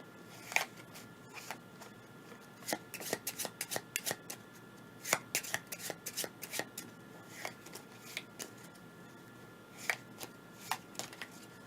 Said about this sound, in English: Oh, it's a new year and these get shuffled too.